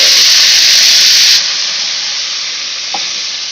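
A loud, close burst of sizzling steam as paste goes into frying ginger and garlic, a harsh hiss that drops and settles into a steadier sizzle, with a small clink near the end.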